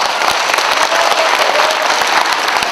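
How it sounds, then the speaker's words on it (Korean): A crowd at a founding ceremony and rally for relocating Gwangju's military airport breaks into loud, sustained applause, dense clapping close and even throughout. "박수해 주십시오."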